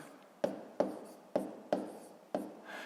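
A pen on paper writes out a column multiplication of decimals, five distinct scratchy strokes in an uneven rhythm, close and quiet with no voices.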